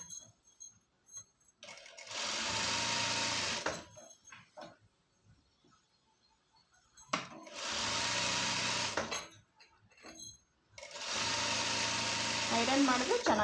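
A sewing machine stitching pants runs in three sustained bursts of steady buzzing whir, with short pauses between them and talk in the gaps.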